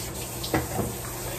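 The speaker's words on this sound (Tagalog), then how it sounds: "Hugas ka muna ng kamay." Water runs from a tap during handwashing, a steady close splashing rush with a slight surge midway, alone without voices.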